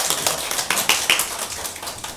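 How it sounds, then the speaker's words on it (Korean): Small church congregation at a Sunday worship service giving a short burst of scattered clapping, a couple of dozen sharp claps close by, thinning out toward the end. "박수 한번 쳐주세요"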